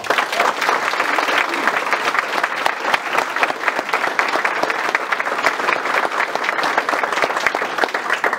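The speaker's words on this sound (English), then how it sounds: "Would you give them a big round of applause?" Steady, dense audience applause for current and former law enforcement officers at a Laclede County Sheriff campaign announcement, with many hands clapping at close range throughout.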